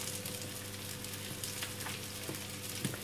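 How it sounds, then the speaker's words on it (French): Onion cooks slowly over low heat, giving a gentle, even sizzle and crackle with a few faint stirring ticks, quiet and continuous with no talk. "l'oignon est en train de cuire à petit feu."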